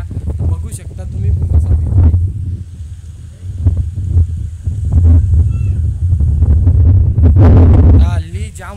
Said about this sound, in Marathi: जाम वारा सुटले ना वाऱ्याचा जास्त करून आवाज माझा आवाज कमीच येतो